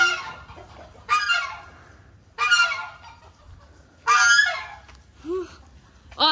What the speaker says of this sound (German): Oh, ist eine Gans!